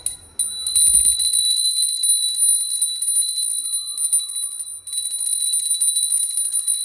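A bell, probably a small temple ghanta, rings continuously near and loud for about six seconds with a steady bright tone and a brief dip partway through.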